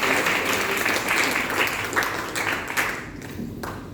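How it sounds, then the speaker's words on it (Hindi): Audience clapping for Usha Gupta at a Vasudha installation event in India, a steady, dense applause that holds for several seconds before thinning toward the end. "एक बार ताली बजा दीजिए उषा गुप्ता जी की"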